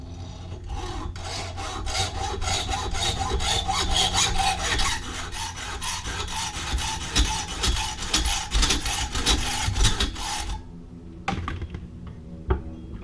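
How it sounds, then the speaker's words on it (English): Hacksaw cutting metal during a rotor and brake replacement on a 2003 Ford Ranger, with rapid back-and-forth rasping strokes, close and continuous for about ten seconds, then a few scattered clicks and scrapes as the sawing stops. "Here we go, hacksaw."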